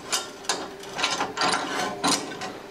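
A clamp is ratcheted tight while a Longevity Stickweld 140 STL stick and TIG welder is being set up, giving several sharp ratcheting clicks in irregular bursts, close and fairly loud, with no talking.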